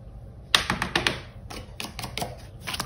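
A scratch card is scraped with quick, close, rapid strokes, each one giving a short dry rasp in an irregular rhythm.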